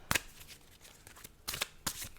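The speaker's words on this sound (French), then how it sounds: "je vais tirer donc 3 cartes" Tarot cards are shuffled and drawn in a few quick papery riffles and flicks, close and crisp, with pauses between the bursts.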